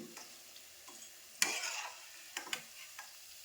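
Gulab jamun fry in hot oil with a quiet, bubbling sizzle, broken by a few sharper clatters and scrapes from a spoon or strainer nearby.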